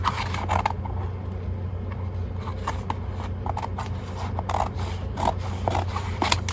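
Scissors cut through thick paper for a handmade art journal, giving repeated crisp snips and scraping crunches at an irregular pace, close and moderately loud over a low background hum.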